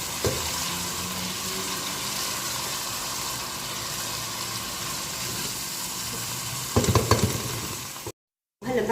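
Chicken frying in a pan with a spoonful of Maggi seasoning is stirred, making a constant close sizzle with scraping stirs and a louder burst of clatter near the end.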